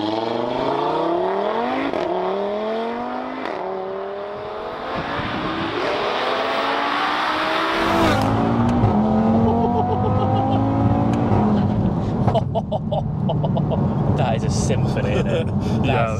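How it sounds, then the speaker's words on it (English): A 550bhp stage 2 Audi TTRS engine revs hard and accelerates through several rising gear pulls, loud and close, with a brief lift between shifts and a voice speaking over the engine note. "All right, let's get it fired up and go for a quick spin."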